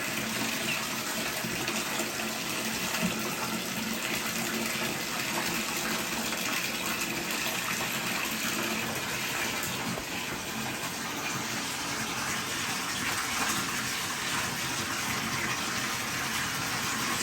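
Continuous running water fills a tub, a steady rushing wash with faint splashing from ducklings mixed in throughout.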